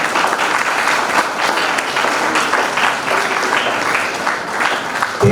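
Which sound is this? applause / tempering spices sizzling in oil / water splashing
applause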